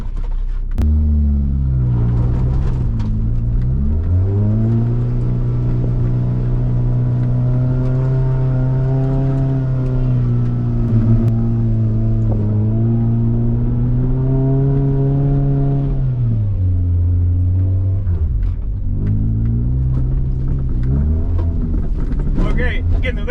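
A Toyota Tercel's engine revs hard and holds high as the small car takes a run at a muddy rut off-road, a loud, steady drone that rises and falls in pitch, with faint voices at the start and end.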